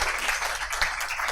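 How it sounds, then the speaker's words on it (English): Audience applause for the President at a forum on Islamic finance and banking in Uganda, a short steady burst of many hands clapping throughout. "let's give a round of applause befitting of the President"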